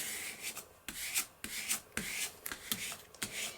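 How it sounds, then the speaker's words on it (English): Paper pressed flat with a burnishing tool for a no-sew journal, heard as a quick series of close, dry rubbing and rasping strokes at an uneven rhythm, quiet, with no speech. "And I'm going to burnish that down."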